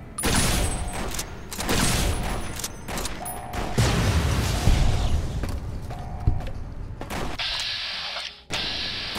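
Heavy automatic M60 machine gun fire in Fallout: New Vegas, played with mods in the Lonesome Road add-on, with loud sustained bursts and mechanical clatter carrying on throughout and a brief shift in tone near the end.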